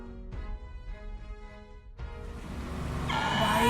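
Small mini bike engine revving and moving on its own, a steady motor drone that rises in intensity and pitch toward the end, with a sharp onset partway through.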